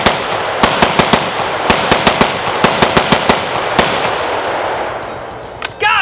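A Century C308 rifle fires during a 1000-round torture test: a string of loud, sharp gunshots, some in quick pairs and clusters, goes off over a steady background rumble, and a brief voice is heard at the end.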